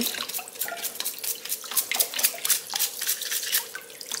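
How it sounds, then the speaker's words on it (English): Raw blue crabs are scrubbed clean under a running faucet, with a steady stream of water, dripping and splashing broken by quick, repeated scrubbing bursts, close and moderately loud. "Clean the inside, scrub. Scrub the legs too."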